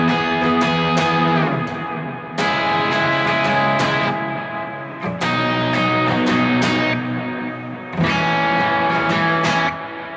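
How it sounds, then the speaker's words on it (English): Electric guitar playing open triads as melodic lead lines in a worship style, ringing chord shapes struck in phrases with sustained decays and short pauses, clear and alone. "So if I just play the open triads on their own,"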